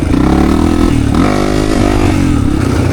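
An XR400 dirt bike's single-cylinder engine roars loud and close, holding a steady, harsh drone with a slight shift in pitch partway through, with no voices over it.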